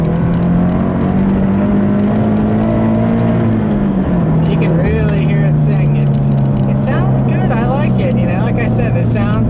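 Scion FR-S fitted with a TRD exhaust and intake revs up and holds, a loud close engine drone that dips and settles, with someone talking over it in the second half.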